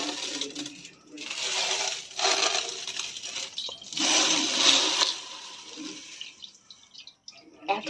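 Sugar poured into a dish while making winter pitha gives a granular rustling hiss in several bursts, loud at times and then fading, with a faint voice in the background.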